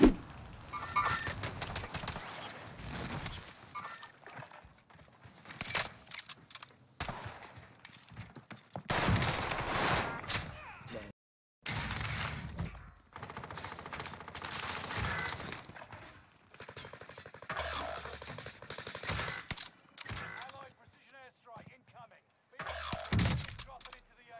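Gunfire in Call of Duty Vanguard Warzone on Rebirth Island: bursts of shots and explosive cracks come in clusters, mixed with in-game action and a player talking.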